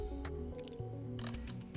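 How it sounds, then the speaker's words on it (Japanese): A smartphone camera fires its shutter sound several times in quick succession while a photo is taken, short crisp clicks over a steady background tone. "シャッターを撮るときは軽く触れるぐらいで"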